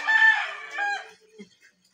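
A rooster crows once, loud and close, its call trailing off into a few faint clucks.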